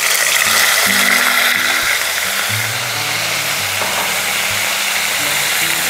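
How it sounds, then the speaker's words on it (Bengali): Bay leaves, whole garam masala and onion paste frying in hot oil, a loud, continuous sizzle with a low mechanical hum running underneath, close and steady, no voices. "মিডিয়াম টু লো ফ্লেমে পেঁয়াজটাকে ফ্রাই করব 5 থেকে 6 মিনিট"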